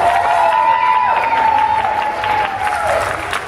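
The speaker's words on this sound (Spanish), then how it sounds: "quiero que les den un fuerte aplauso a cada uno de estos excelentes músicos" A concert audience applauds the musicians with steady, dense clapping and some cheering, while a sustained tone hangs over the crowd noise throughout.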